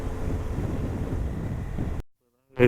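Hot wind rushing past during a solo motorbike ride toward the Jawadhu Hills, a steady broadband roar of wind buffeting the microphone for two seconds before cutting out, followed by a brief burst of noise.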